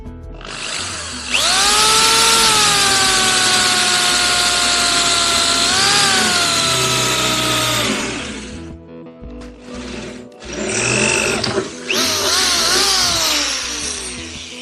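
A loud power drill whines steadily for several seconds while drilling holes in a Lambretta scooter panel, its pitch dipping briefly under load, then stops and restarts in two shorter bursts.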